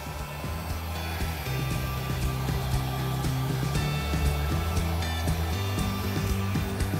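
A hair dryer blows out acrylic paint in a dirty pour, a loud, steady whooshing roar with a constant motor hum that continues for the full seven seconds, close by with nobody speaking.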